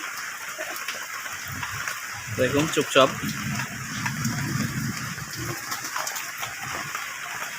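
Rain falls steadily on a racing pigeon outdoors, a continuous hiss of drops on surfaces, with a voice speaking briefly over it midway.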